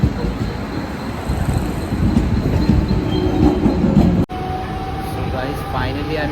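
Thane Express passenger train travelling from Thane toward Kasara, heard from inside a carriage as a loud, steady rumble and rattle of wheels on track that continues throughout with a brief dropout.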